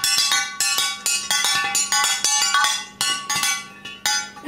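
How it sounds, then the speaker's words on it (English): A spoon stirring dye solution among crystals in a glass container, producing quick repeated bright clinks and taps against the glass in an uneven rhythm, close and clear with no talking. "You need to stir it so it gets in between those crystals"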